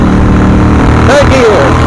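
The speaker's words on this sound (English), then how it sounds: "let's downshift. 4, 3, 2." A Harley Davidson Sportster 48 rumbles loud and close as the rider shifts down through the gears, a heavy, steady engine roar with a voice briefly speaking over it near the end.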